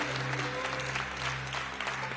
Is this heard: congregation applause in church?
yes